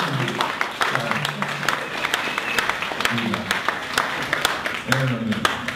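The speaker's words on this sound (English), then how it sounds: "let's give Conor O'Neill a big round of applause" Audience applause at a marketing talk, dense clapping from a seated crowd with a few sharp individual claps standing out, and a voice speaking over it at moments.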